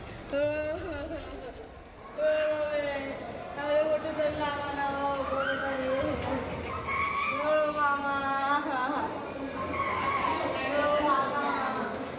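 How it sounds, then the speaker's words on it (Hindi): Grieving relatives wail and cry loudly at a hospital in Nashik where patients died after an oxygen leak, several anguished voices rising and overlapping in sustained, tremulous sobbing with crowd commotion beneath. "परिजनों के रोने की आवाज आप सुन सकते हैं।"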